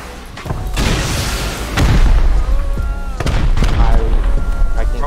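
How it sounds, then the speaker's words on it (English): Rockets fired in a video game raid, loud repeated booming blasts and explosions over steady background noise, with faint voices. "Keep shooting rockets."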